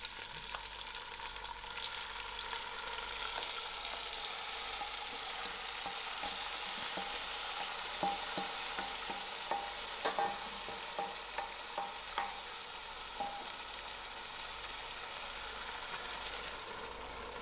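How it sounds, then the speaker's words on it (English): Crushed chilies frying in hot oil in a pot, a steady soft sizzle with crackling pops and a few stirring scrapes, close and fairly quiet. "To my hot oil, I'm going to add in my crushed chilies"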